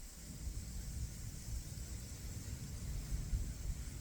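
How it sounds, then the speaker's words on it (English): Wind moving through grass at a quiet, shut-down trucking facility on a weekend: a soft, steady low rush and hiss that holds evenly throughout with no other sounds. "It's just the only noise you hear is that grass moving."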